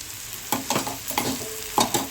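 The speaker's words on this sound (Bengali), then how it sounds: "চলো পেঁয়াজটা তাহলে ভাজা হোক" Onions fry in a pan, giving a bright sizzle broken by several loud stirring scrapes and clatters at an uneven rhythm, close by and with no talking.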